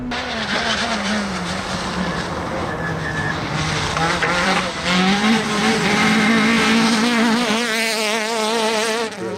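A Peugeot 106 rally car at Rally Van Wervik 2025 drives at speed, its engine note loud and close, pitching up and down through gear changes with a rising wail near the end.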